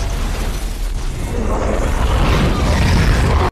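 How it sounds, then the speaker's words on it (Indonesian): A remote-control bomb explosion in a film gives a loud, sustained roaring blast with dense broadband rumble and debris noise, continuing for several seconds before cutting off abruptly. "Menyebabkan ledakan yang sangat dahsyat."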